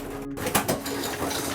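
Racing pigeons in a loft give low, soft coos over a steady background hum, with faint rustling and shuffling.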